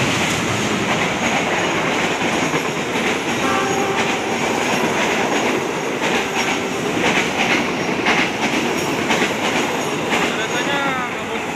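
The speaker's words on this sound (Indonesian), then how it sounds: "Keretanya guys ya, dia melintas langsung." A passenger train roars past close by, loud and continuous, with rhythmic clickety-clack of wheels and occasional faint squeals.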